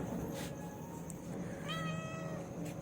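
A pet cat gives a single drawn-out meow, fairly quiet and close, against a hushed indoor background.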